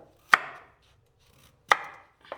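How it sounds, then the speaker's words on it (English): Peeled carrots being cut with a knife on a board: two sharp, isolated chops well apart, followed by a lighter third tap, close and dry against near silence. "Clean, peel and cut the carrots"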